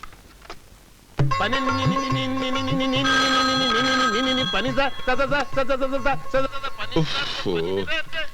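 A telephone rings while someone calls a garage mechanic, with a continuous electronic ring tone that runs loudly for several seconds and has a musical, warbling quality. Voices and a short blip come before it.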